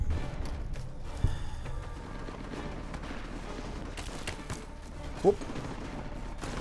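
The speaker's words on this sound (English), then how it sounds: "that's gunfire towards me" Gunfire in the video game Fallout: New California comes as scattered, distant-sounding shots and bursts beneath a low rumbling ambience, with a couple of sharper reports standing out and a voice exclaiming briefly.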